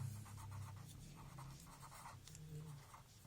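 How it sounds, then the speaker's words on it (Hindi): Pen or marker scratching across a board or paper while a maths solution's square-root step is written, a run of short strokes over a steady low hum, fairly close. "तो यहाँ पे लिखते हैं टेकिंग"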